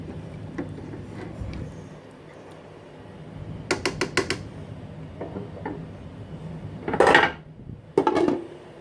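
A utensil stirring pho ingredients in a pot, giving rapid clinking and scraping strikes in short bursts, including a quick run of taps and two louder scraping swishes near the end, close and unaccompanied by talk.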